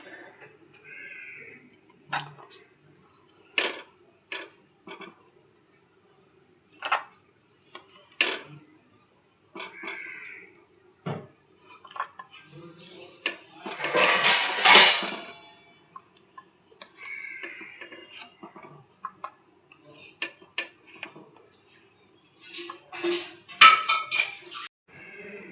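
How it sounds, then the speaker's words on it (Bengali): Boiled hog plums lifted out of water with kitchen utensils after the gas is turned off, bringing scattered metallic clinks and scrapes of a spoon against a pot, a brief watery splash partway through, in a quiet kitchen. "আমড়া সেদ্ধ হয়ে গেছে, গ্যাস অফ করে দিলাম। এবার জল থেকে"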